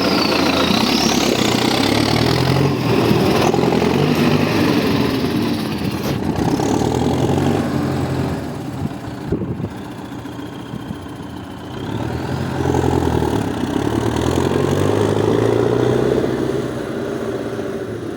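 A tractor engine with a newly fitted fuel pump runs steadily at close range, with a faint high whistle of the turbo riding above the low rumble; the revs dip briefly midway.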